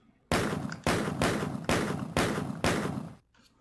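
Six loud, evenly spaced gunshots in Doom, each a sharp blast that decays briefly before the next, with a short quiet tail after the last.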